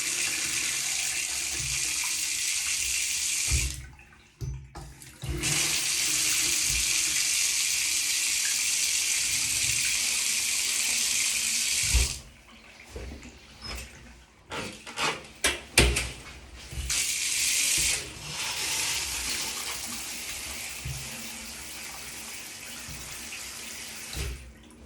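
Water gushes steadily from a newly fitted bathtub mixer tap. Partway through, the flow sputters and spits with air trapped in the pipes, then settles back into a strong, close running stream.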